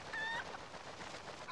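A chicken clucks in The Legend of Zelda: Twilight Princess, giving one short, faint squawk at the start over a steady background hiss, with no speech.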